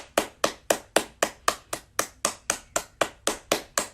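Slow, evenly spaced sharp claps, about fourteen in four seconds, each crisp and close with a short decay, keeping a steady rhythm like one pair of hands rather than a full audience.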